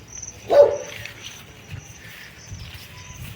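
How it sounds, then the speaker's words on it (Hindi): A single dog bark rings out near farm fields in the hills around Haldwani, Uttarakhand, fairly close and short, with a steady chirr of crickets and insects continuing around it. "इधर ये डॉगी भौंक रहा है।"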